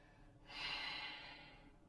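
A single slow, deep breath during a core yoga session, a soft airy rush that swells and fades over about a second, close and quiet with no talk.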